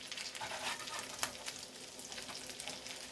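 Crab cakes sizzling in a frying pan just after being flipped, a close, steady crackling hiss of oil with small pops throughout.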